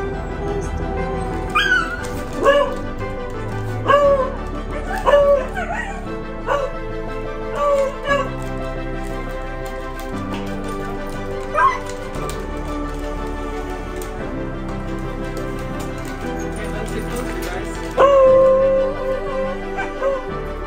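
Several excited dogs bark in short yelps and let out high whimpering whines, competing for a returning grandmother's attention indoors; the outbursts recur in bursts across the stretch against a constant background.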